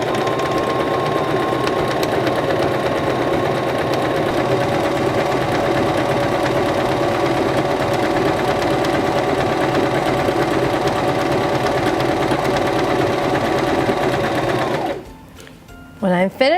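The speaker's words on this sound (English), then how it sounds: "Placing our fabric underneath our presser foot, we'll lower our presser foot, press down on our foot control" A SINGER START 1304 sewing machine runs steadily, stitching fabric under the presser foot with a continuous motor whir and rapid needle rhythm, loud and close, stopping abruptly near the end.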